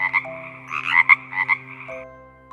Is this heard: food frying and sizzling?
no